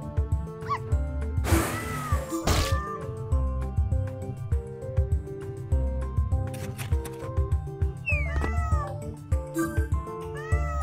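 Cartoonish cat meows from a video game, several short meows scattered over a steady backdrop of game music, with a couple of brief rustling bursts.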